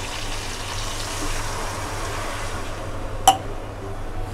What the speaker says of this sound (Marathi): साधारण अर्धा ग्लास पाणी टाकलं